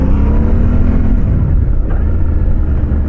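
Close and loud, a Yamaha Tenere 700 motorcycle engine pulls steadily, its rising drone dipping as it shifts gears, then settling into a low rumble.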